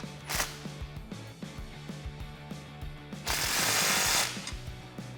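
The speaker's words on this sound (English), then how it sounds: "tighten that clamp down." A wrench ratchets in quick, faint clicks while tightening an exhaust pipe clamp on a 2014-2018 Silverado dual exhaust, a steady rhythm of small metallic ticks with a brief louder rasp near the end.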